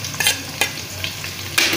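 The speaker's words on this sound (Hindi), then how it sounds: "लाइट ब्राउन हमने करने हैं, पहले हम प्याज ही ब्राउन करेंगे।" Chopped onions fry in oil in a pan over high heat, a soft steady sizzle broken by a few scraping stirs.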